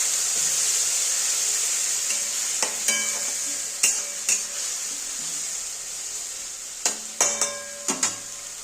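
Spice pastes with turmeric, onion paste and dried red chilli powder being sautéed in a pan, a soft continuous sizzle broken by sharp spoon scrapes and clanks against the pan at intervals.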